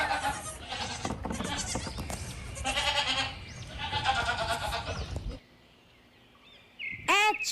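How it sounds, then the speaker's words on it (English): Goat bleats repeat over a noisy, busy background for about five seconds, then a short gap of near silence before another sharp cry. "G for goat."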